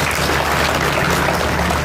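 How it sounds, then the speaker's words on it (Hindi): Audience applause at an Independence Day function, steady dense clapping filling the whole moment at close range with a low hum beneath. "एक बार तालियों से उनके इस कार्य की सराहना करेंगे"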